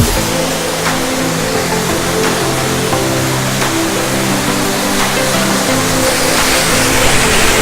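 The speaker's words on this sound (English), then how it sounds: "let's go again to the back of the waterfall." Standing behind a waterfall at Sohra, Cherrapunji, the listener hears a loud, steady rush of falling water, a continuous broadband roar with no voices.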